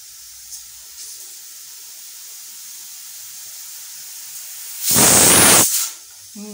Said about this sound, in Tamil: 4 விசில் வந்தாச்சு